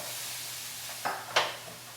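Chopped onions drop into a hot pan and sizzle, a steady soft hiss broken by two quick, louder bursts as they land.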